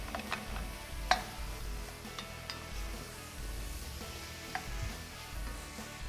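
Potatoes tipped into a pan of browning leeks give a faint, steady sizzle with soft stirring scrapes and one sharp clunk of pieces landing.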